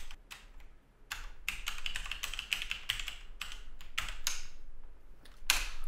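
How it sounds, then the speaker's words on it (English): Rapid typing on a computer keyboard entering free text labels into a marker track in Cubase: close, crisp bursts of key clicks in uneven runs with short pauses, no talking. "I can type whatever I want in here."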